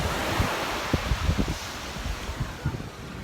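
Surf washes onto a beach in Krabi, Thailand, a constant broad wash with low rumbling swells and buffeting wind noise on the microphone, and no voices.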